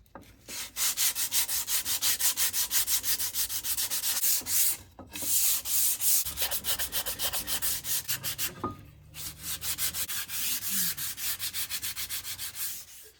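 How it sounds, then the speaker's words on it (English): A 100 grit sandpaper block works along a smooth vintage axe handle in fast, steady back-and-forth strokes, a loud, close rasping scrub with two short pauses and nobody talking. "So now we're just gonna be taking a block, attaching some 100 grit because this handle's already really smooth."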